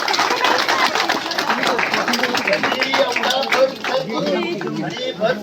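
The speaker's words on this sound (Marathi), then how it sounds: "जोरदार टाळ्या व्हायला पाहिजे" A crowd claps outdoors in the rain at Sinhagad fort during a Shivrajyabhishek anniversary gathering, a dense patter of applause mixed with voices talking over it.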